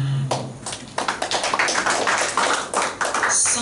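Congregation clapping in a church service, dense, lively applause with sharp individual claps filling the space, continuing steadily without speech.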